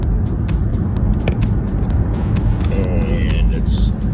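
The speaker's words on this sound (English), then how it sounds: "it's traffic backed up on the highway" Car moving through backed-up highway traffic, with a steady, loud road and engine rumble running throughout and a few brief higher tones near the end.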